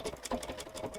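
A Bernina sewing machine fitted with a fringe foot stitches in a quick, even mechanical rhythm of close, distinct needle beats over about a second.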